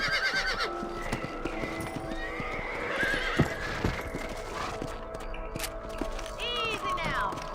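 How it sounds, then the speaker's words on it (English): Horses in the video game Red Dead Redemption, with steady clip-clop hoofbeats and a couple of shrill whinnies over a continuous background, while people talk throughout. "Let's get back on the horses and see what else is going on."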